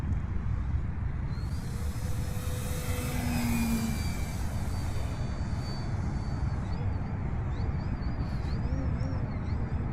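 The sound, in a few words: E-flite Ultimate 3D RC aerobatic plane flying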